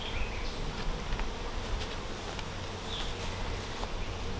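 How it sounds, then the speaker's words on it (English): A dense, constant buzzing of many honeybees in an open hive during an inspection fills the air close by, a steady hum with occasional louder individual passes. "Lots of bees, and they have started to draw out this"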